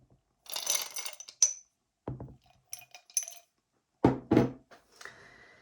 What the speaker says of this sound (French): Je vais vous tirer des dés.